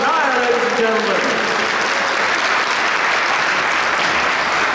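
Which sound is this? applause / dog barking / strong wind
applause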